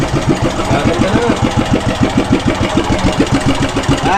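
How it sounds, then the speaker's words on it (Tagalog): A freshly repaired engine runs at a steady idle, with loud, close and evenly spaced thumping pulses that continue without a break and without talk. "Nakahinga na yung ayos ng makina."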